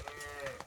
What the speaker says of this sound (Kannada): ನಮ್ಮ ಹಸು ಈ ಸ್ಪೀಡಾಗಿ ಬರ್ತೈತೆ ನನ್ನ ಹಿಂದ್ಗಡೆ.